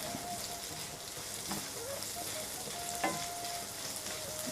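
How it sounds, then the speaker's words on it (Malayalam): A dried prawn pickle mixture with green bird's-eye chillies frying in a pan, a close continuous crackling sizzle broken by a few sharp spatula scrapes and taps, with no voices. "എല്ലാം കൂടി ഒന്ന് വഴറ്റിയെടുക്കണം"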